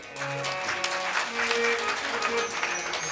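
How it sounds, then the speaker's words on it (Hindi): A seated audience at a devotional Bhagavata katha gathering claps together in a sustained burst of applause, with a voice and some music-like tones underneath. "अपने लिए ताली बजाओ एक बार"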